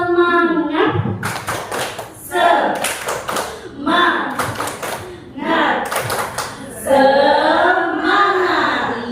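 A group claps a patterned rhythmic cheer in sharp bursts, alternating with someone speaking and children's voices chanting between the claps.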